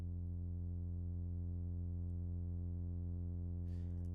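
Steady synthesizer tone from a Reaktor recreation of an Elektron Monomachine, filter near 200 Hz with light resonance, a sustained buzzy drone holding evenly throughout, with a brief noisy burst near the end.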